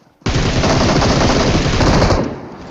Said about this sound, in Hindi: अब पीछे से फायरिंग हो रही थी